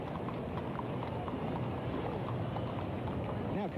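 Horses' hooves clip-clop along the street in the 1985 Great Circus Parade, a steady patter set into a dense, noisy outdoor background.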